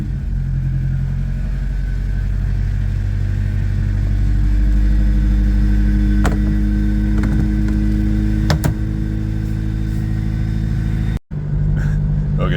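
A Honda Civic EF with a B16 engine idles steadily while warming up, giving a continuous low rumble close by with a brief dip near the end and no talk.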